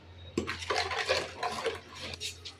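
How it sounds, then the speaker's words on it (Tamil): A spoon stirring a thick milk mixture for Kadambu Pal milk pudding in a bowl, close soft scraping and wet swishing strokes repeating in an uneven rhythm. "கொஞ்சம் கெட்டியாக கலக்கணும்."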